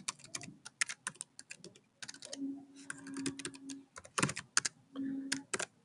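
Someone types an email address on a computer keyboard, a close, quiet run of quick clicking keystrokes in bursts with short pauses and no talk.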